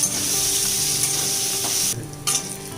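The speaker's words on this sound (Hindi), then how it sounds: "उसके बाद आप थोड़ा सा 2 से 3 मिनट तक ऐसे फ्राई कीजिए जब तक ये गोल्डन ब्राउन कलर न आ जाए।" Paneer fries in a pan with a steady, bright sizzle close by, broken by stirring scrapes and a brief dip near the end before the sizzle returns, with no voices.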